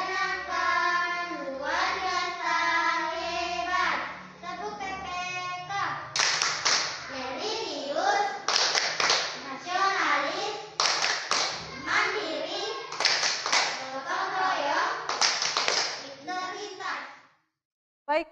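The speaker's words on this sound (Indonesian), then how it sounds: "Tepuk PPK." A primary school class claps in a rhythmic PPK pattern. Children's voices chant in time with the bursts of clapping, which stop abruptly near the end.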